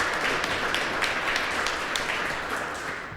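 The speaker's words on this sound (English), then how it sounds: "so round of applause for them" An audience at an evening event in Indianapolis giving a round of applause, a dense, moderately loud patter of clapping that holds steady and then tapers slightly toward the end.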